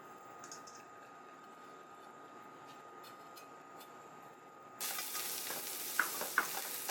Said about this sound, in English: So I'm going to just saute the garlic, then lower the heat so you don't burn it.